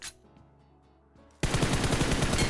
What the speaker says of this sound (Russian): Но вот здесь за счет хорошей стрельбы Фейц, конечно, вывозит.